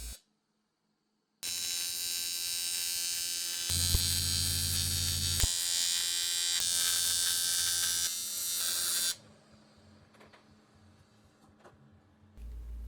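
An electric bike frame is welded with a steady, loud, hissing buzz that runs for several seconds with a heavy low hum partway through, then drops to quieter background noise.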